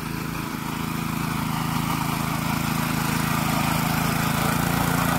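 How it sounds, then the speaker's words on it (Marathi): A tractor engine runs steadily and loudly nearby on a farm field, a continuous low droning rumble that builds slightly over the clip. "आता ट्रॅक्टर घेऊन इथे साईडला येत आहेत ते."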